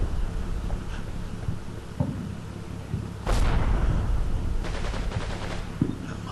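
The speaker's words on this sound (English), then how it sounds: "I was doing range shots." Tank range shots and gunfire in the Combat Mission WWII video game, a few distinct booming reports and bursts over a constant windy battlefield rumble, fairly loud with no talking.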